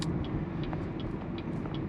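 A 2022 Chevrolet Trailblazer ACTIV AWD with a small four-cylinder runs with a steady, slightly gruff low hum, heard from inside the car, constant throughout with no talk.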